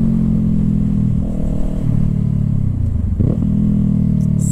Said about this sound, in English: I'm hitting these downshifts now